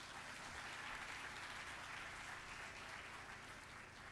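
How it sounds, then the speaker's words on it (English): Audience applause at an ASL celebration of excellence event, a dense, steady wash of many hands clapping that fills the whole stretch at an even, fairly soft level with no talking over it. "Let's give Ms. Sharon Anthony another round of applause"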